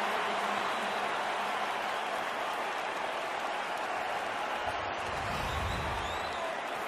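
A stadium crowd cheers and applauds at an NFL game between the Minnesota Vikings and Arizona Cardinals, a steady, dense roar of many voices heard from a distance that holds evenly throughout.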